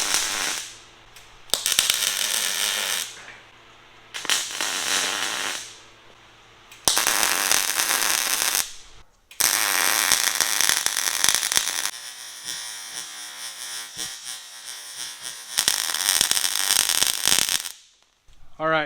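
Tack welds on the uprights of an ATV trailer, heard as several loud, sustained bursts of crackling, sizzling welding arc, each a few seconds long, separated by short quiet pauses.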